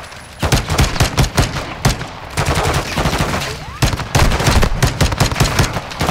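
Rapid automatic gunfire from the Modern Warfare II video game, bursts of sharp loud shots repeating in quick rhythm across the whole stretch with short pauses between volleys, dense and close, with a voice faintly underneath.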